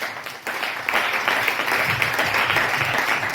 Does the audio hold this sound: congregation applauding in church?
yes